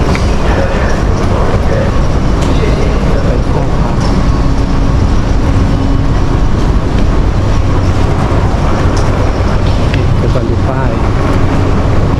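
Loud, constant rumble and rushing noise of a moving Bangkok MRT metro train from Bang Sue heard from inside a carriage, with faint tonal whine underneath.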